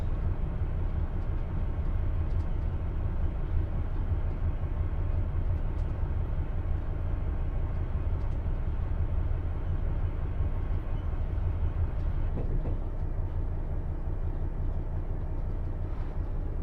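Train in the Train Simulator Classic game slowing as it pulls into a station: a steady, loud low-pitched rumble and drone runs unbroken throughout, with no voices.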